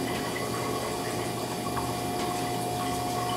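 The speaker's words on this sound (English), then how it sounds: "just rinse that off if you have to again" Water runs steadily from a tap or shower while legs are rinsed off, a continuous close hiss and splash with no talk.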